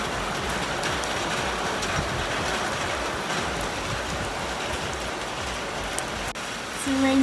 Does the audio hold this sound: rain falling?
yes